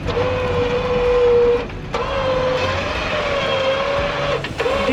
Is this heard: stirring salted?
no